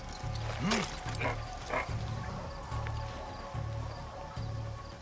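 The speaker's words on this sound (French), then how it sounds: "J'ai cru entendre un chien." A dog barks several times in Far Cry 6, short sharp barks spread out irregularly against a steady low background hum, with a yelp-like rise near the start and no talk over it.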